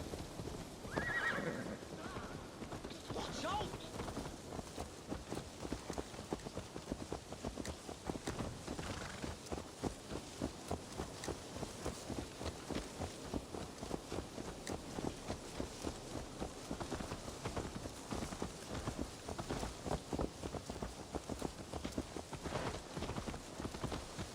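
Horse in the Assassin's Creed Valhalla video game whinnying early on, then steady hoof clip-clop running throughout at a low, even level with no talking.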